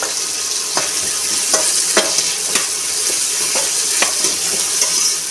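Appakovai greens sauté in a pan with a constant close sizzle, punctuated by sharp scrapes and taps of a spoon as they are stirred at irregular intervals.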